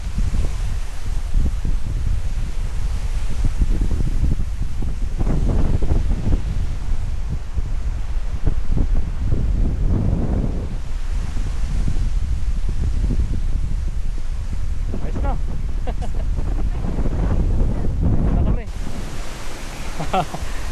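Strong wind buffets the microphone in steady gusts at a lakeside campsite, a broad roaring rush with occasional quieter moments and faint voices underneath.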